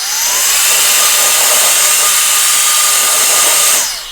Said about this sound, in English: gently blow your camera out just like that